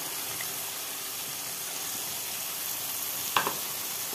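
Gravy sizzles steadily in a pan after sour yogurt is added, a constant bright frying hiss with one brief louder clatter of stirring near the end.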